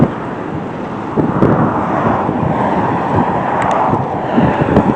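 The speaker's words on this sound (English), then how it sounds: "It's windy here." Strong wind buffets the microphone in a steady, rough roar, with a few louder gusts swelling through it. No one speaks.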